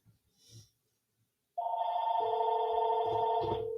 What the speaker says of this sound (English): As you can hear in the background, the phone is ringing.